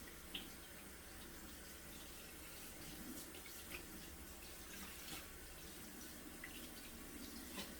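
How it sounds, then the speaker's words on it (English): Kitchen tap running steadily into a sink while dishes are washed, a continuous close hiss and splash with small clinks and drips, no talking. "I'm running out of hot water"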